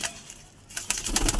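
Pet pigeons kept for sale in a loft, a soft coo and bird sounds at close range, with a quiet gap in the middle and a louder rustle and calls near the end.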